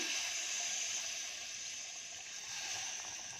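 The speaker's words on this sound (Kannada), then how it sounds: "ಇವಾಗ 1 ಕಪ್ ಅಕ್ಕಿಗೆ 2 ಕಪ್ ಆಗೋಷ್ಟು ನೀರು ಹಾಕ್ತೀನಿ" Water poured into a cooking pot for rice, a continuous close splashing and gushing stream that holds steady for the whole moment.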